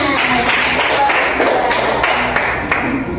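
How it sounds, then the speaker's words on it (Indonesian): A classroom gives a dance performance a round of hand clapping, a close, dense stretch of quick overlapping claps that keeps going steadily. "Beri tepuk tangan."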